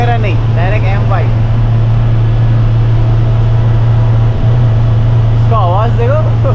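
Old Ashok Leyland bus engine running on a Hyderabad to Mumbai highway journey, a loud constant low drone with a steady hum throughout, while people talk over it.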